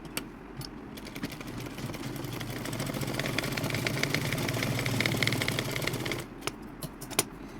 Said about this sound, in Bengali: এখন আমি এদিক দিয়ে চাপ সেলাইটা দিয়ে দেবো